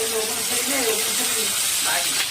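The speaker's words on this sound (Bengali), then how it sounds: "খুব সুন্দর ভাজা, খুব সুন্দর ফ্রাই হচ্ছে" Fish sizzling as it fries in a pan in a village kitchen, with a steady broadband hiss throughout and a person talking over it.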